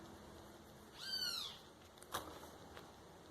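A sabiá thrush calls just outside a window, one clear sweeping whistled phrase followed by a couple of short faint chirps, fairly quiet against a soft background hiss.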